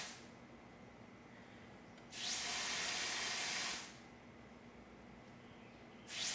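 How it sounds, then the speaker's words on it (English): Green underglaze sprayed in short spurts onto the bottom of a ceramic mug: two loud bursts of steady airy hiss, one lasting about two seconds and another starting at the end, over a quiet room background with no talk. "I'm spraying this green on the bottom of the mug only."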